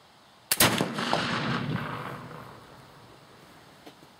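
A flintlock gun fires once with a sharp, loud crack, followed by a long rumbling decay that fades over several seconds, with a faint small knock near the end.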